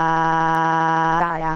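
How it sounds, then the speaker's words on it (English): An electronic bad-behavior alarm worn at school blares a steady, loud buzzing tone with rich harmonics, holding constant before wavering and dipping near the end. "A bad behavior alarm?"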